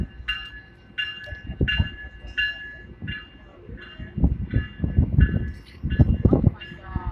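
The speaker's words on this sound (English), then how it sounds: "Here's the train, Metrolink." A Metrolink Orange County Line commuter train, train 665 hauled by F125 locomotive SCAX 910, rolls past with a repeated bell ringing and rising rumble and wheel clatter, while people talk nearby.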